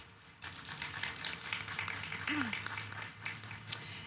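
An audience at a CreativeMornings Winnipeg gathering claps for about four seconds to welcome new team members, a steady moderate patter of many hands with a sharper clap near the end.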